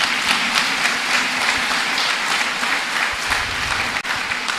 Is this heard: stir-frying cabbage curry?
no